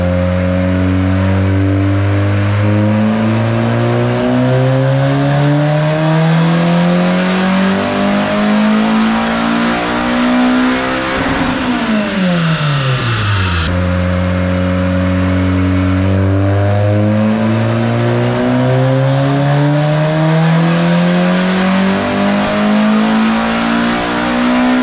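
A built Honda engine with a budget turbo kit and VTEC, running on a dyno at around 10 pounds of boost, climbs loud and close through a long rising pull, drops back sharply midway, then sweeps up again.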